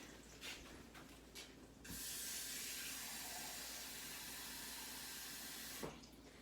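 Tap water runs steadily into a pot being filled for Instant Pot minestrone, a constant hissing splash that lasts several seconds, preceded by faint clinks and ending with a soft knock.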